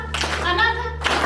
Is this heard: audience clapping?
yes